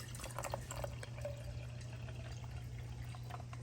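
Water pours and trickles into the tank of a HiLife portable garment steamer, a steady close liquid fill with small splashing drips, heard alone over a low constant hum.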